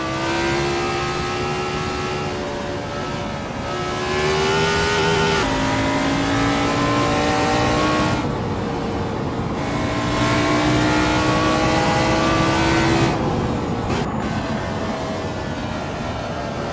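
A Dallara F3 race car in the Assetto Corsa sim racing game, engine loud and continuous, pitch climbing through gears with shifts and brief lifts, steady racing drone throughout, no talking.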